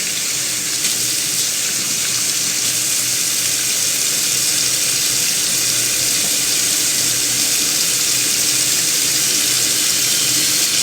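A tap runs at full flow into a sink, a loud, steady rushing hiss that continues unbroken for about eleven seconds with no voices.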